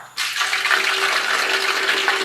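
A pork knuckle lowered into a wok of warm oil sets off a sudden loud hiss that settles into steady, close crackling and sizzling frying.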